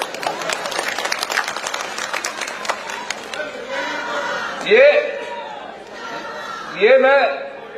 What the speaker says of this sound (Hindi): तो जोरे ने तालियां बजाओ ना लेडीज।